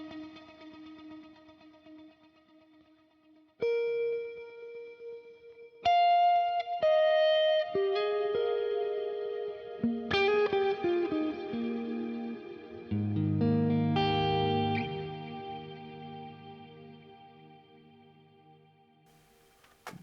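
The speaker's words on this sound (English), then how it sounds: "So the PLEX delay itself is awesome for these awesome kind of diffused delay tones." Guitar notes played through a Fractal PLEX delay bloom into diffused, smeared repeats, with single notes and chords ringing out, stacking and washing together before slowly decaying, with no talking.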